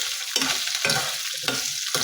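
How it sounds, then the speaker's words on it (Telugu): Onions, green chillies and garlic fry in hot oil with a bright sizzle, broken by three loud stirring scrapes in quick rhythm, close and with no talking. "అప్పుడు ఇదిగోండి ఉల్లిపాయలు, పచ్చిమిరపకాయలు అలాగే వెల్లుల్లిపాయలు ఇవన్నీ కూడా వేసుకున్నాను."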